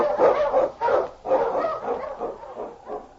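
Dog barks from King, an Eskimo lead dog, sound in a quick run of medium-pitched woofs and yips. They are close and clear, with no talking over them.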